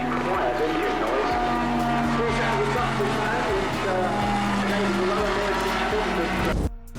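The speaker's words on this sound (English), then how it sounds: "Very high-pitched, relatively quiet engine noise." An Optica bubble-canopy light aircraft flying past along a display line, a steady high-pitched engine drone with a constant tone heard at a distance over outdoor background, continuous for several seconds before cutting off.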